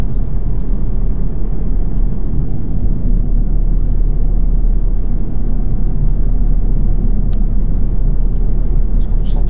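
Car engine lugging at low revs during a French driving test, a steady low rumble and slight shudder from inside the cabin, loud and continuous, with faint talk.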